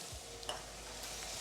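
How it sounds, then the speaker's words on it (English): Garlic frying in a hot pan gives a steady, faint broadband sizzle with a brief stirring clatter, heard close and alone with no talking. "So throw in your garlic."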